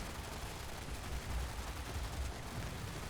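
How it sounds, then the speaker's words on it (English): In Fallout 76, an explosion rumbles as a dense, sustained roar of crackling, booming noise that fills the whole few seconds at steady moderate loudness, with no distinct separate blasts and no voices. "Sorry, I could not hear you over that explosion."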